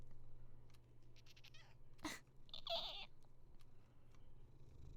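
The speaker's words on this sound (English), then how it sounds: "There's a cat! I can hear a cat!" In the Deep in the Forest game demo, a single soft cat meow rises out of a quiet, humming room after a sharp click, then fades back to low background noise.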